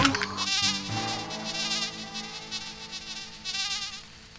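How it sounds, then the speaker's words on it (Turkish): A cartoon fly buzzes in a steady, wavering whine that lasts throughout, loud and close, with a short sharp sound at the start. "Bir sinek burnuma girdi."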